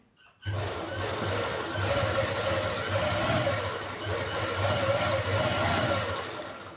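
A sewing machine stitches a salwar in a steady, continuous whirring hum, running unbroken at close range with no voices.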